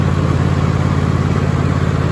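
Cub Cadet XT1 LT 46 lawn tractor engine running steadily, a loud, close, even mechanical drone with a constant low throb and no break or change across the stretch.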